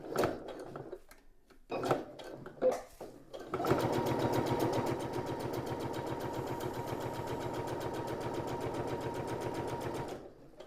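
A sewing machine stitches a fabric cosmetic bag with a zipper, a quiet rapid mechanical rattle running steadily after a few brief handling knocks at the start.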